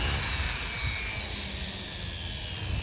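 A radio-controlled model helicopter hovers with a steady, loud, close whine and rotor buzz that holds level throughout, with no talking.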